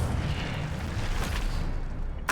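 An Incendio fire spell cast in a Harry Potter video game gives a steady, roaring, rumbling burst of flame that fills the short moment, ending in a sharp crackle.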